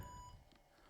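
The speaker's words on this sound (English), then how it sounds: "Okay, we get a double beep," Two short beeps from an IBM PS/2 Model 65SX computer signalling a startup error, brief and faint over a low background hum, with no talking.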